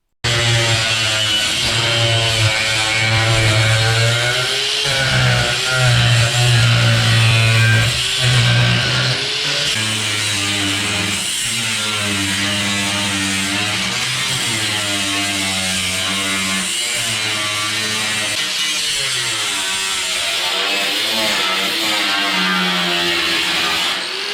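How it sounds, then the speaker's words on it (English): Angle grinder cutting the rocker panel metal of a Mercury Sable station wagon, a loud continuous whine that rises and dips as the disc bites, sustained close up for over twenty seconds with no talk. "Now we're going to go take and cut the width here to begin with the angle grinder."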